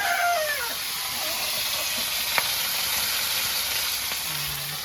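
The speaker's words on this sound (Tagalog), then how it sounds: "Kung saan nagluluto po si Tito Mon ng pritong tilapia" Tilapia frying in a pan in a nipa hut kitchen gives off a steady, close sizzle and hiss throughout, with a few faint clicks and a brief low tone near the end.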